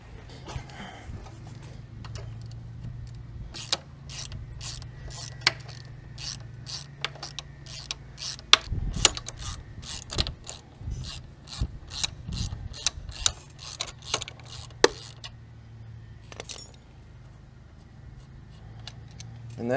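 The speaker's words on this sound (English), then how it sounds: "of all the ratchets I grab with my brothers, I probably grabbed the worst one" Socket ratchet clicking on bolts of a BMW S1000RR track bike, bursts of sharp ratcheting clicks in irregular runs over a low steady hum, close and moderately loud.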